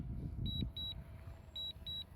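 Remote-controlled drone beeping as it flies back home on its own, four evenly paced high electronic beeps in two pairs over low outdoor rumble.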